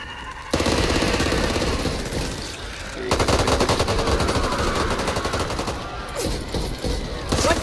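Sustained rapid gunfire in a first-person shooter, starting with a pistol, on Nightmare difficulty in the level Act 2-1 Call to Arms. Dense, loud, continuous bursts run for several seconds, break briefly, then resume with a layered mix of shots.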